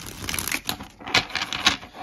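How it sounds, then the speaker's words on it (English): Tarot cards being shuffled, with a fast close run of crisp clattering card flicks in uneven bursts. "One more shuffle."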